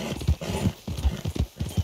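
A horse in Red Dead Redemption 2 clip-clops with quick, close, rhythmic hoofbeats, and a brief whinny is mixed in.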